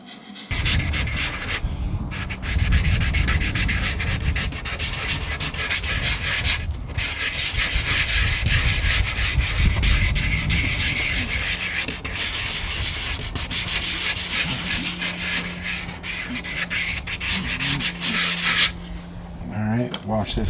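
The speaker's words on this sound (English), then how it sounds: "Right now I'm sanding it with some 120 grit everywhere that I'm going to put Bondo." Fiberglass on an RV is hand-sanded with 120-grit sandpaper in steady, close, continuous rasping strokes that run almost the whole time, with brief pauses.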